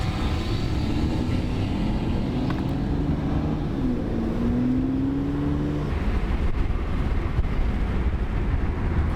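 Steady engine drone of a BMW E93 with an N54 engine driving, with a rising gear whine partway through and constant road noise, heard from inside the cabin.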